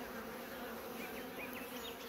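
Honey bees buzz softly and steadily around an open beehive during an inspection, a faint continuous hum with no voices.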